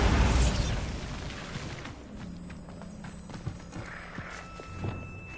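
Bombarda spell explosion in a Harry Potter video game near a Thestral nest, a loud burst at the very start that fades into quiet rumbling, with faint hoof-like clops and small pops afterward.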